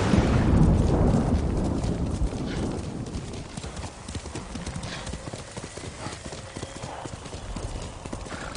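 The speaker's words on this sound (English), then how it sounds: "You're a good horse, Nobu." A horse gallops in Ghost of Tsushima, a rapid steady clip-clop of hooves that starts loud and heavy and settles into a continuous rhythmic beat, heard alone with no talking.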